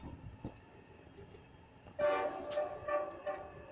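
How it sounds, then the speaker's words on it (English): Heritage train GL112 passes through a station at the NSW Transport Heritage Expo in Sydney, rolling in after a quiet stretch, its sound rising suddenly with tonal horn-like notes and rumble continuing to the end. "I think we'll have a train passing shortly."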